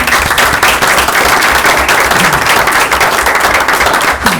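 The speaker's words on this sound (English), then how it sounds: "so round of applause" Audience applause at a school district board of education meeting, a steady dense wash of many hands clapping together, loud and close, with no talk over it.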